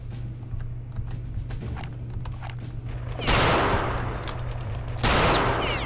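Shots from a sniper rifle in Return to Castle Wolfenstein, with two loud, sharp blasts and a rumbling tail after each, preceded by scattered lighter game clicks and clatter.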